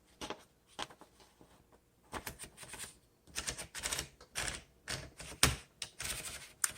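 A 1949 Smith Corona Sterling typewriter is handled while paper is fed behind its roller, giving irregular close mechanical clicks, ratcheting and rattling bursts that grow busier toward the end, with no talk.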